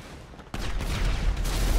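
Rocket launcher fire in GTA Online, during a biker fight: quiet for half a second, then a sudden loud blast that becomes a sustained, rumbling roar of explosive gunfire lasting to the end, close and dense.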